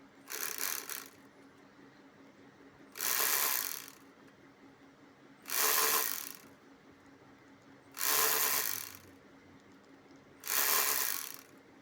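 A sewing machine stitches fabric in five short, even bursts separated by quiet pauses, fairly soft and with no one talking.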